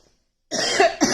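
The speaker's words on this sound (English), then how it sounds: "Let me cough." A person coughs twice in quick succession after a short silence, loud and close, with no talk.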